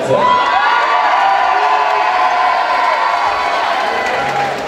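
A pageant audience cheers and applauds loudly as a contestant is welcomed on stage, with steady shouts and whoops over continuous clapping that stays strong throughout.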